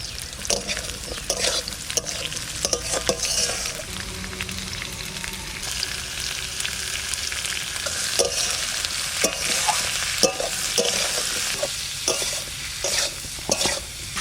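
Potatoes and leafy greens stalks fry in a pan, a continuous sizzle with frequent scraping and clattering from stirring, close up and moderately loud throughout, no voices.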